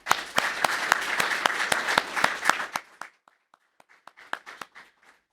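A round of applause at a university professorship announcement, a few distinct sharp claps in a steady rhythm over a softer crowd, thinning into scattered isolated claps that fade after about five seconds.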